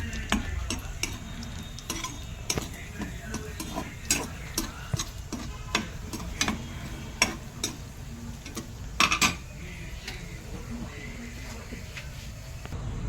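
Cashews and raisins frying in ghee give a soft continuous sizzle broken by frequent sharp crackles and pops, heard up close with no talking.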